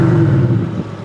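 Brabus-tuned Mercedes G-Class with a switchable exhaust revving, one short deep burst of engine roar, loud and close, tailing off quickly.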